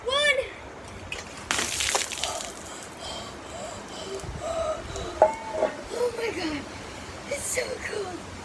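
Ice water from a bucket splashes and sloshes during an ice bucket challenge, with a heavy burst of falling water followed by dripping and splatter, and a person's voice heard around it.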